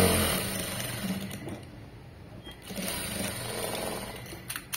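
A sewing machine runs in short bursts while stitching along the edge of a piece of cloth, its rapid mechanical whir close and fairly quiet, pausing briefly between runs.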